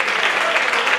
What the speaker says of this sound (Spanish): denle fuerte el aplauso a Cristo Jesús